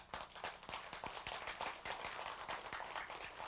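Thin, scattered clapping from a small audience at a storytelling lecture, individual hand claps audible as a quiet uneven patter.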